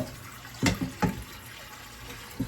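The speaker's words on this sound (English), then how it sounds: "So we're washing out the pots." Running tap water pours steadily as pots are washed in a home kitchen, with a few sharp clanks of cookware standing out above the continuous rushing.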